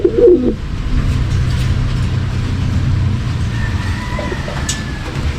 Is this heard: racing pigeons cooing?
yes